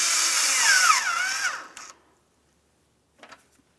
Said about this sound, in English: let's also tighten the mounting bolt on the far corner that we had started in